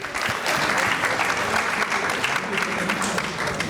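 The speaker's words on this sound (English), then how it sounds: "round of applause, absolutely" A business and investment forum audience in New York gives a sustained round of applause, a full, even roar of clapping with some voices blended in.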